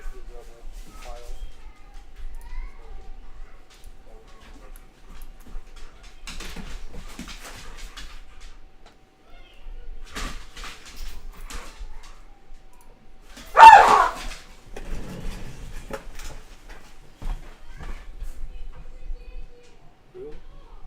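Two dogs play roughly in a quiet room during a tabletop game session, giving soft intermittent yips and whimpers and one louder sharp bark midway, with people talking faintly around them.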